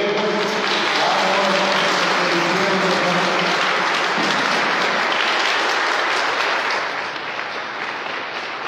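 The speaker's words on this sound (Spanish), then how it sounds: "vamos a darle un fuerte aplauso a todos los compañeros" Crowd applause at a Guadalupe religious procession from Pueblo Viejo, Michoacán, loud sustained clapping with a voice briefly heard early on, tapering slightly near the end.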